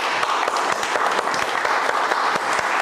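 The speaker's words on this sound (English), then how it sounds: "give me a round of applause" Audience at a community workshop applauding steadily throughout, a dense continuous wash of clapping from a roomful of people, fairly close and loud with no talk over it.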